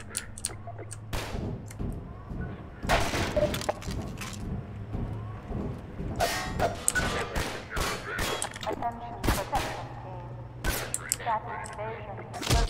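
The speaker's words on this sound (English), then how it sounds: "You can shoot a barrel." Gunfire in the Half-Life 2 canal level, Route Kanal, as a barrel is shot: a run of sharp, loud bangs and bursts spread across the stretch, mixed with metallic clatter and game ambience beneath a steady low hum.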